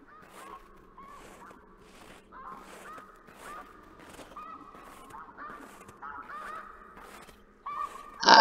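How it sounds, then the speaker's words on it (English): Snow geese in the video game theHunter Classic honk repeatedly in a steady series of nasal calls, moderately close, ending with a sudden louder burst. "I hear the geese"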